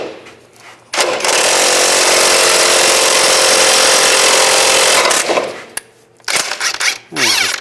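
A ball joint press is tightened down on the lower ball joint of a 2005–2015 Nissan Xterra, giving a loud continuous rattling power-tool burst of about four seconds, followed by a pause and several shorter clattering bursts.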